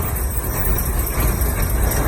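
Vehicles idling in traffic at a street corner, a steady low engine drone with mild fluctuations, close and continuous.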